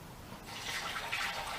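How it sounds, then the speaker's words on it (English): Air conditioning flush chemical is poured into a flush canister, a soft close liquid splash and gurgle that swells after a quiet start and keeps running briefly. "I usually fill them up about a third with flush chemical"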